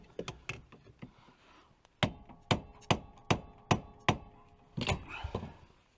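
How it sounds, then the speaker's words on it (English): Hammer and chisel strike a seized part on a Land Cruiser diesel engine that sat for 21 years, giving sharp metallic blows: a few scattered taps, then a steady run of six loud, evenly spaced whacks and a final clattering hit. "I just got the bigger hammer out, proper chisel, whacked on it here, and she popped right out of there"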